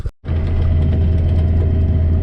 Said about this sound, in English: we'll start the tractor back up and see if we fixed it